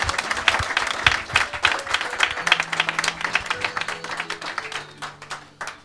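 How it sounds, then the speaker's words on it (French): A church congregation claps and cheers for Jesus of Nazareth, a loud room-filling round of applause with scattered shouts that tapers toward the end. "Est-ce qu'on peut acclamer Jésus de Nazareth?"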